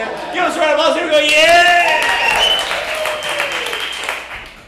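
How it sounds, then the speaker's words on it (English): Audience applause and cheering at a comedy show, a crowd clapping loudly and steadily for about four seconds, swelling in the middle and easing off, with whoops and voices mixed in. "Give us a round of applause."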